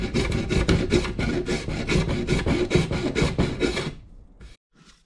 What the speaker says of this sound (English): So we'll get the file out.